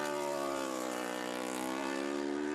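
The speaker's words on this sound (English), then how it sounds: "listen to that engine note" A high-revving twin-cylinder racing motorcycle engine at the 2023 Isle of Man TT roars continuously, a dense, buzzing drone at full throttle that stays loud and steady throughout.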